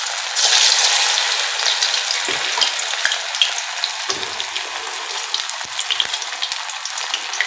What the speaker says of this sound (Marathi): आता आपण हे तेलामध्ये तळूया।